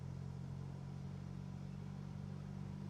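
A car engine idles and runs steadily on four cylinders, a deep continuous low rumble with a smooth, even drone throughout, no talking over it.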